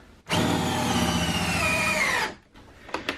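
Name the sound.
driving a 4.5 inch bolt with a socket set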